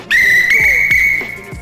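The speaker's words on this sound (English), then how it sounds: "it's quite a whistle. I'll give you a little go here" A loud, sustained high-pitched blast from a large handcrafted whistle, steady tone, lasting over a second and fading slightly at the end, with faint knocks underneath.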